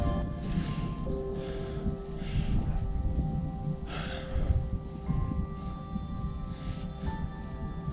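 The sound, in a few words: heavy breathing after climbing to summit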